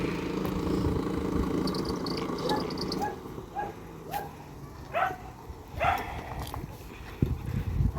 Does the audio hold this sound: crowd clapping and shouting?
no